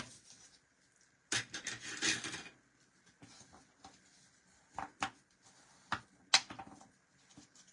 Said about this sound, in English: Hold that down nice and tight. Give it a good rub.